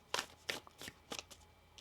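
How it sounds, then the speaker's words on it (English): Tarot cards shuffle in a few quick riffling bursts, close and crisp, with brief pauses between the riffles. "One more shuffle."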